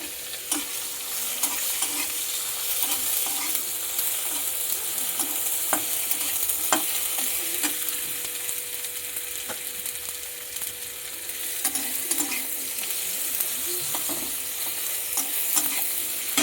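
Soaked tengra fish fries in a pan with a continuous bright sizzle, and repeated spatula scrapes and taps from the stirring run through it.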